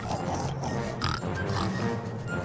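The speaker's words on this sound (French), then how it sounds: "les trois petits cochons arrivent." Cartoon pigs oink and grunt in a quick back-and-forth over about two and a half seconds, loud and close, with several overlapping snorts and no speech.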